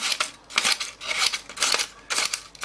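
Freshly sharpened scissors snip repeatedly in quick, crisp bursts, about five cuts in a rhythmic sequence, close and clear with no voices.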